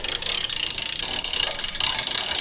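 A ratchet wrench clicks in quick, steady strokes while tightening bolts on a car's brake line, a close, continuous metallic ratcheting with no talking.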